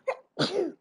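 A pet gives a short sharp sneeze followed by a longer snorting sneeze, both close and fairly loud in a quiet room.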